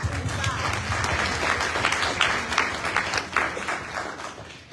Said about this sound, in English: Let's give a little applause for that.